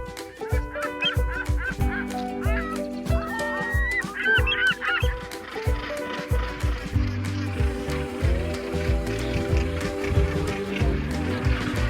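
Northern gannet colony on Bonaventure Island, a dense chorus of harsh overlapping honking calls from many birds, loud and continuous without a break.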